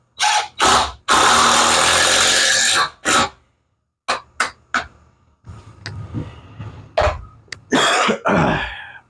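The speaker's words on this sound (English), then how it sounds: "Please excuse my cough." Several loud, sharp coughs and throat-clearing bursts close to the microphone, mixed with short whirs of an electric planer working rough-cut lumber and some clattering.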